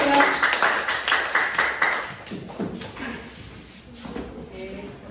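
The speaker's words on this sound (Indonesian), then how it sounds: "Tepuk tangan untuk kawan kalian." Students in a classroom clap for classmates, a dense rhythmic burst of hands at the start that thins into scattered claps, shuffling and desk noise, with some voices underneath.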